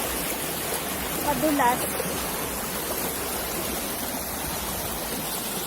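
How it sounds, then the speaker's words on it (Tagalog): Rushing river water along the River Dove in Dovedale, a dense steady roar close by, with a brief voice speaking over it. "Kumaragasa ang tubig."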